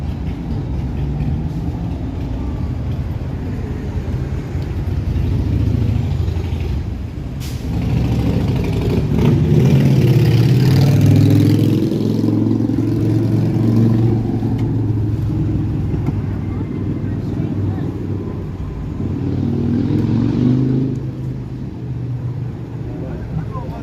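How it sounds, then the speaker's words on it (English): Cars and trucks roll past on a street in Toronto's Annex neighbourhood on a summer evening, engines swelling and fading in several broad waves, with a steady low road hum between them. "cities aren't noisy, cars are noisy, or sometimes Harley Davidsons"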